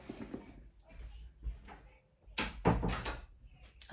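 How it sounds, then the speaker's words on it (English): An indoor door swings shut, with several thumps and one louder closing bang near the end, all in a room with no other sounds. "let me close this door."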